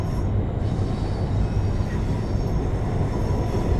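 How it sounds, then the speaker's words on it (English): A ScotRail Class 380 electric train in Train Sim World rumbles steadily over points, its wheels giving a dense, continuous clickety-clack and rolling roar at close range, with no voices. "You've got nice clickety-clack across the points."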